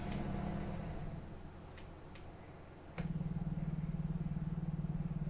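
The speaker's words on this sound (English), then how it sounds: "I'll throw the exhaust brake on" A heavy truck in American Truck Simulator hauls a heavy load with a steady low engine drone, then its exhaust brake engages halfway through and the sound switches to a loud, rapid, rhythmic low-pitched pulsing that continues to the end.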